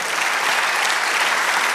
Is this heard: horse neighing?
no